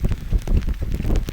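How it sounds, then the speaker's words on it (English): Rain comes down on a golf course, a rough, steady patter and hiss of drops mixed with gusts of wind against the microphone, close and fairly loud with no talking. "here comes the rain."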